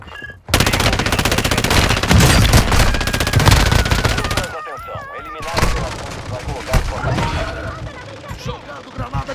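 Heavy gunfire in the Call of Duty DMZ video game on Ashika Island: loud, rapid automatic bursts and single shots crowd the scene, then ease into scattered shots and game effects, with game voice lines mixed in.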